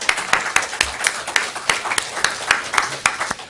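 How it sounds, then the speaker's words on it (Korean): A church congregation claps during a Sunday worship service. The claps are sharp and fairly sparse, landing at an uneven, roughly steady rhythm and sounding close and moderately loud, with faint voices underneath. "그리고 그 하나님 앞에 한번 박수해 주시죠."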